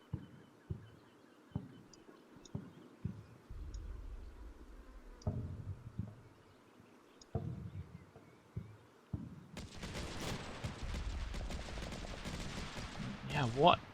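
Cannon and gunfire in the video game Combat Mission Shock Force 2, 30mm automatic cannon bursts and sharp shots popping at irregular intervals, then a dense sustained barrage of heavy firing near the end.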